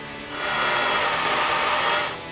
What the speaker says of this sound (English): Now we can go ahead and mark and pre-drill our second hole.